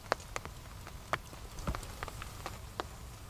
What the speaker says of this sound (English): You can hear the tarp, just the rain just hitting the tarp